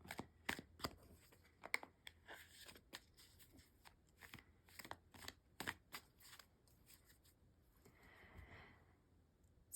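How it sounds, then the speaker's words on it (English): Tarot cards shuffled by hand in a quiet room, a rapid series of crisp riffling slaps and flutters, close and fairly soft, with a brief papery bridge toward the end. "do a quick shuffle here."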